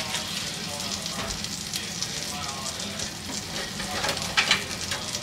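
Food sizzling and frying in butter in a pan, a steady close crackle and hiss with occasional louder spits, heard without talk.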